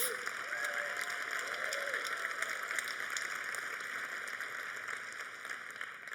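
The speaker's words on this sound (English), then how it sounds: "Another round of applause for Rise25 and all of our honorees." Audience applause at the Rise25 awards ceremony in Dublin, a sustained round of clapping from a crowd in a hall, steady and moderately loud before gradually easing.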